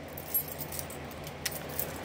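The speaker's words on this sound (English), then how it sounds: "it's kind of hard to find keys one-handed" Several keys on a key ring jingle and clink a few times during a one-handed search, with sharp metallic taps against a quiet room background and no talking.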